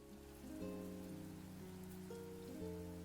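Steady rain patters on a surface, soft and even throughout, in an anime scene of pen on paper, with sustained tonal music held underneath the rainfall.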